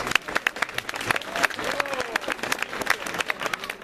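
A small audience gives a short burst of applause at a band event, dense overlapping claps that stay steady for several seconds without a clear peak.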